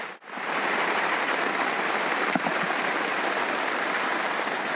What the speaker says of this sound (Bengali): খুব প্রচন্ড বৃষ্টি, অনার্গাল বৃষ্টি হচ্ছে।